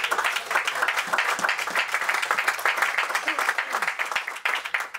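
A church congregation claps for the King of Kings during a Spanish-language service, a dense, steady wave of applause holding at full strength through the whole stretch, with no talk over it.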